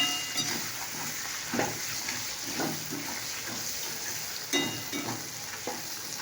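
Food frying in a pan with a steady, close sizzle and bubbling hiss, broken by periodic stirring scrapes and clatters at irregular intervals.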